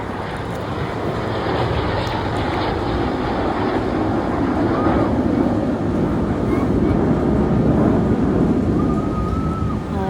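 A continuous loud roar of aircraft engines rumbles throughout at an air show, steady and broad, as if a plane passes nearby overhead.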